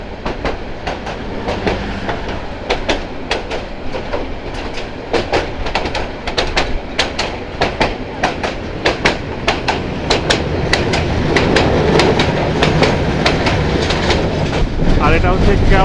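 The Haor Express, a Bangladeshi passenger train on the Mohanganj to Dhaka line, rolls along the rails with loud, close, rhythmic clickety-clack wheel beats that grow denser and rumble more heavily as it goes, with faint voices underneath.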